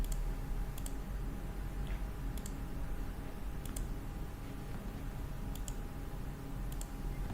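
A computer mouse clicks through settings buttons while an Acrel ADW300 meter's Wi-Fi settings are configured: about half a dozen faint, crisp single clicks spaced a second or so apart over a steady low hum.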